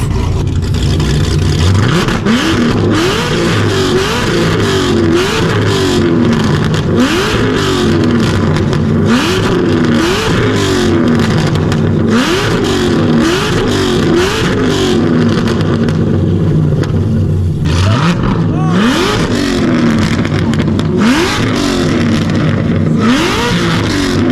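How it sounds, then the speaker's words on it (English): A Corvette ZR1 with a 1,000 hp aftermarket exhaust revs hard again and again, each loud, rising snarl repeating in a rhythmic sequence, very close and overpowering throughout. "as you heard, the car is extremely loud, and I mean extremely."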